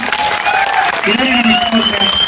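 Audience applause at a government employees' association event, a dense wash of clapping from a crowd that holds steady for the whole stretch, with a voice and ringing tones over it.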